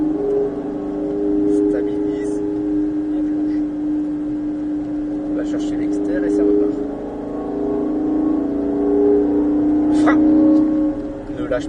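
A Ford Mustang Shelby GT500 with a 760-horsepower V8 drones steadily under throttle on the Nogaro race circuit, its engine tone holding and swelling slightly while a man gives instructions over it.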